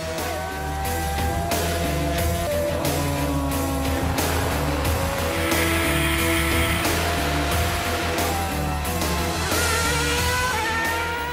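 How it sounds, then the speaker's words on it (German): A new 2011 Sauber Formula 1 car rolls out onto the race track, its engine a steady loud drone with shifting harmonic whine and changing pitch throughout, no talking over it. "der Teamleader aus Japan darf als erster mit dem neuen Auto auf die Rennstrecke"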